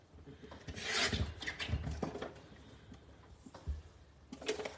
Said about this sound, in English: So I'm just trimming my photos.